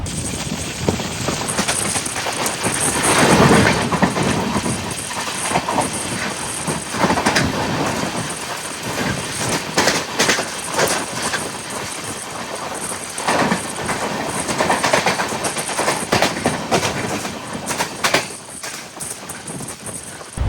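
Netravati Express sleeper-class train running from Ernakulam to Mumbai, its wheels clattering in a loud, steady rhythm with surging rumble and rattling carriage noise throughout, no voices.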